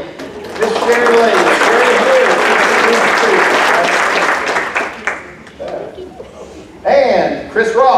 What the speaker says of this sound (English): Let's give Chris and Sherry Lee a round of applause